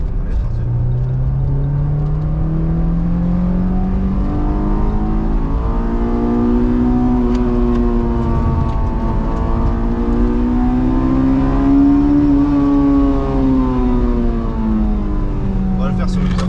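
A Honda S2000 Phase 2 with a manual gearbox revving hard and accelerating on asphalt, its loud rising engine note climbing, easing and climbing again over about sixteen seconds, close and continuous.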